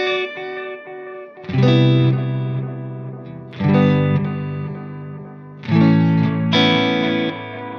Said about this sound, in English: Then the next type is the tape delay.